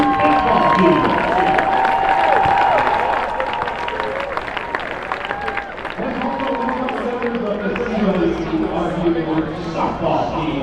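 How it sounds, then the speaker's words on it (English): A crowd at a CWRU football game against Westminster applauds and cheers steadily through the whole stretch, with voices carrying over the dense clapping. "Fans, let's hear a big round of applause for the CWRU baseball team."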